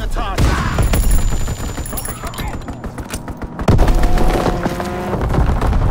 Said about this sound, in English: Fighter pilot inbound,